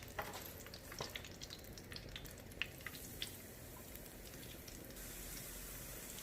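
Shrimp deep-frying in a pot of hot oil, a dense continuous bubbling crackle with a few faint clicks on top, fairly quiet and steady throughout.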